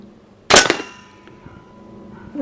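An airgun fires a slug in one sharp, loud crack, with a ringing tail fading over about a second; a second sharp report begins at the very end.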